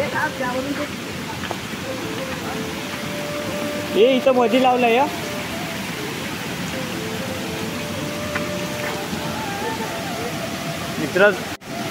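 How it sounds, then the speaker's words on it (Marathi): A large waterfall at Kelbai roars as a steady, broadband rush of water, loud and continuous throughout, with people talking over it. "तुम्ही धबधबा बघून घाबराल, इतका मोठा धबधबा आहे."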